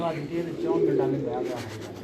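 A racing pigeon perched at a rooftop competition gives a low, rolling coo at close range, with people talking over and around it.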